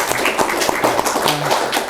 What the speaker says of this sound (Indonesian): tepuk tangan dulu untuk Pak Taufik